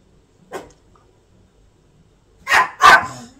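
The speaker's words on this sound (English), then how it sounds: "Excuse my dog. Someone's obviously walking around outside." An indoor dog barks close by: a single short bark, a pause of about two seconds, then two quick louder barks in succession, with near silence between.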